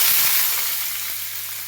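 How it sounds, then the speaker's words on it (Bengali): Chopped onions hit hot oil in a pan already tempered with whole spices and a bay leaf, giving a loud, steady sizzle that eases off slightly as it continues, with no voices. "পেঁয়াজগুলো খুব সুন্দর করে ভেজে নিতে হবে"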